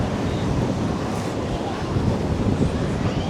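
Strong wind blasts across the microphone at Benidorm beach, a broad, constant roar with gusty buffeting that masks any surf or voices underneath.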